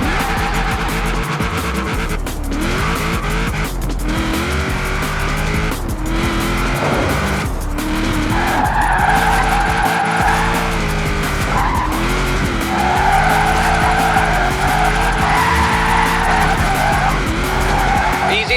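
A car drifts through a run of tight turns in the racing game Forza Horizon 4, its engine revving hard as the tires squeal in long sweeping slides, loud and continuous with no talking.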